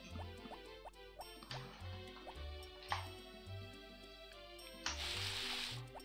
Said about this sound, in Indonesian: Oke, sekarang kita siram tanaman.